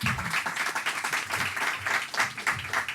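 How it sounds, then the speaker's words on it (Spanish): An audience claps for the panelists at the close of a publishing event, a steady, moderately loud patter of many hands that lasts the whole three seconds. "Por favor, un aplauso a los panelistas."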